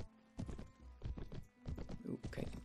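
Horse hooves clip-clop in Mount and Blade Warband, a steady close rhythm of several quick footfalls with a short gap midway, over a faint background hum.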